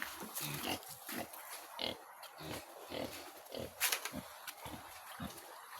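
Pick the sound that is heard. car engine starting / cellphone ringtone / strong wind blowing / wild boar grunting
wild boar grunting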